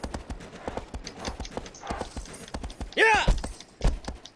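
Horse hooves clip-clop at a steady, rhythmic pace in the Shadow of the Colossus video game. The footfalls are close and clear, with a person speaking briefly over them.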